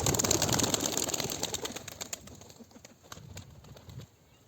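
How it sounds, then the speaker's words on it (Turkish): Tumbler pigeons flapping their wings close by in a loft setting, a dense burst of fluttering and wingbeats that gradually thins out and fades. "şöyle kuşları da yakından çekelim arkadaşlar"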